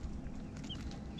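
A hen gives soft, brief clucks while teaching her chicks to catch earthworms in a yard, faint over a steady low background rumble.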